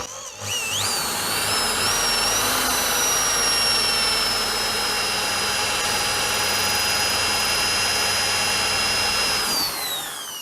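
A Vorhut impact drill boring a 4 mm bit into a bearing, a steady high-pitched whine held for about nine seconds before winding down, loud and close with no voices.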